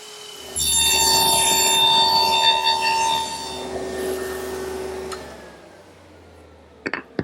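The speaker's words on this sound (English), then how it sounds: "I'll route the pins in the front" Router cutting dovetail pins through a jig in a woodworking shop: loud sustained whining tool cut for about three seconds, then the motor spins down and fades, ending with a few sharp clicks.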